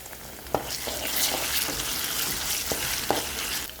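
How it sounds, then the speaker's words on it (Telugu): Ginger-garlic paste fries with tomatoes in a pan for restaurant-style veg dum biryani. The sizzle is steady and close, and a few sharp clicks come from stirring. "ఇప్పుడు ఇందులో 1 చిన్న స్పూన్ అల్లం వెల్లుల్లి పేస్ట్ వేసి ఒక 1 మినిట్ ఫ్రై చేయాలి."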